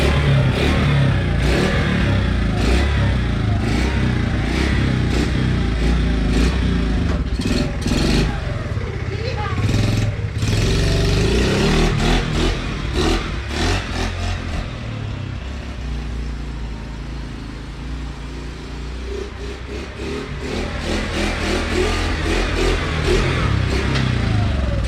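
A Honda ATC70 engine stuck on full choke runs roughly nearby, revving up and down in repeated bursts with some mechanical clatter, loud throughout the clip.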